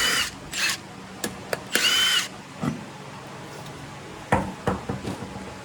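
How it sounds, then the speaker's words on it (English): A power tool sounds in short high whirring bursts while removing the wheel from an Arctic Cat Wildcat 1000 side-by-side, mixed with metallic knocks and clanks of lug nuts and parts, close in a quiet workshop. "Take off your wheel."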